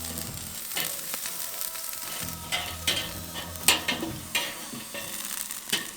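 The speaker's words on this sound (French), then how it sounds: "Allez, on continue de remuer nos légumes." Green beans and carrots sizzle on a barbecue grill at 180 degrees while being stirred, a steady hiss broken by scraping utensil strokes and occasional metallic clinks, close and without speech.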